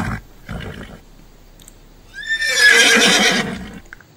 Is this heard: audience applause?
no